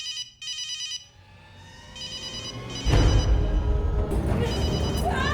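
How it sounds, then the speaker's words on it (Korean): A phone rings with an emergency-call callback as a repeating electronic ringtone in short bursts, then gets louder and busier as rustling and movement join in and cover it toward the end. "긴급 전화의 콜백으로 그만 들켜버리죠"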